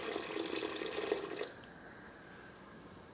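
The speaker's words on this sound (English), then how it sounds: "You want to pour maybe 1/4 cup, maybe up to 1/2 cup of this juice in here" Juice from a jar of peppers is poured into a pot roast, a steady close liquid splash and trickle for about a second and a half, then it stops and only faint room hiss remains.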